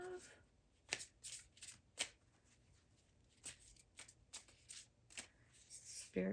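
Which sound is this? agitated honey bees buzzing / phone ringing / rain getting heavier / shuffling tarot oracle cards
shuffling tarot oracle cards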